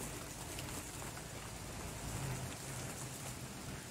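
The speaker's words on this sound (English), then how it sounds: "And here comes the rain." Steady rain falls over an outdoor garden where a straw bale raised bed is being built, a dense, even hiss of drops on surfaces that holds constant throughout with no voices.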